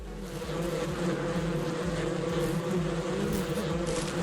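A bee swarm in a ranch farming video game, a continuous close droning buzz with layered humming tones that holds steady and moderately loud from start to finish.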